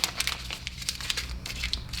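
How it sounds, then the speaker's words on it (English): Sheets of paper crumpled into balls by a seventh-grade class: dense, crackly crinkling bursts that come thick and fast for two seconds, fairly close, with several sheets rustling at once and no talk. "we are going to make our snowballs, right? So that means we are going to crumple these up"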